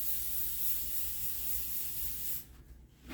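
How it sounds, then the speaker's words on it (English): Powder foot spray hisses from an aerosol can onto a golf club face in one continuous, fairly close burst lasting over two seconds, then stops, leaving a quiet room. "I get some powder foot spray."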